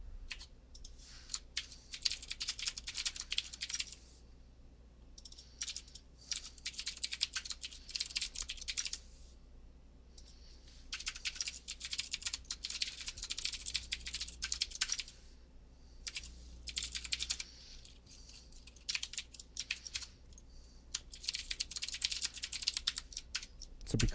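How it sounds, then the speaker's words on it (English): Rapid clattering keystrokes on a computer keyboard come in bursts separated by short pauses, close and fairly loud over a faint low hum, with no talking. "still typing"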